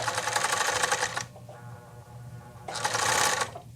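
A sewing machine blind hemming suit pants runs in two close, loud bursts of rapid stitching separated by a quieter pause of fabric handling, with no talk.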